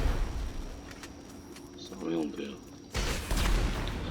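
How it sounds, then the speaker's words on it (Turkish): Gunfire from Grand Theft Auto V, sounding as a spread of sharp, broadband shots in two clusters, with a louder burst near the end, under a muffled voice in the middle. "Oğlum ben füze atıyorum sen bana silah sıkıyorsun"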